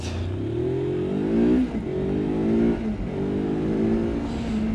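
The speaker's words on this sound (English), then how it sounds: "acceleration pretty damn good on the Versys 300" A Kawasaki Versys-X 300 motorcycle accelerates, its engine note climbing in pitch through several rising sweeps as it pulls through the gears, steady and fairly close with road noise beneath.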